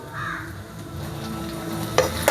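Crushed garlic, ginger and a few peppercorns fry in oil for fried rice, giving a steady close sizzle, with two sharp clinks of a utensil against the pan near the end and no talking.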